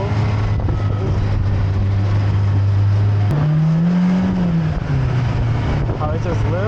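Turbocharged Toyota Supra being driven, its engine droning steadily then rising in pitch as it accelerates, with turbo whoosh, heard from inside the car with people talking.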